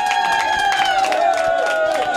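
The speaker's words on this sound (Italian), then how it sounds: "un applauso" Guests at a restaurant party in Lonato del Garda clapping and cheering, with quick claps and raised voices over steady tonal sound, lively and close throughout.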